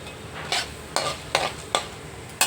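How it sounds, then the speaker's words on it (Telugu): Dried red chillies and chana dal are stirred in a hot pan for a tindora and fresh coconut fry, with five or six sharp scraping strokes at a steady rhythm over a soft background sizzle. "దోరగా వేయించుకోవాలి. అలాగే ఎండుమిర్చి, శనగపప్పు కూడా వేసుకోవాలి."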